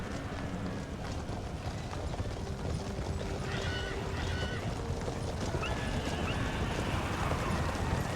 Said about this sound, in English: so we might as well just charge in with the horses.